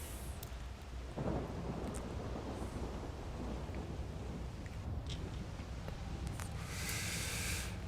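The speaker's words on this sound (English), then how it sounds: "Nice rainy start to any map." Steady rain hissing with rumbles and cracks of thunder in the World of Warships naval game on the Solomon Islands map, a dense continuous wash of downpour with occasional sharper thunder bursts.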